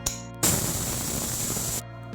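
A pressure cooker whistle blasts for about a second and a half while cooking dal, a loud hissing burst that starts and stops abruptly.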